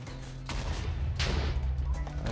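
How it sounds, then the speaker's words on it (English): A bigger explosion in Minecraft from a slimeblock tunnel bore machine, heard as two sharp, loud blasts about half a second apart, each with a broad, rumbling burst that decays quickly over steady low background noise. "Let's try and do a little bit bigger explosion here."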